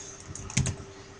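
Computer keyboard typing: a few quick, light key clicks in a short burst, close and fairly quiet, with no talking.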